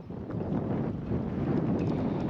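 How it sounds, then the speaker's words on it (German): Steady wind gusting across a microphone beside a boat lock in the Netherlands, a broad continuous rumble that swells slightly toward the end, with no talk. "Und windig ist es auch geworden."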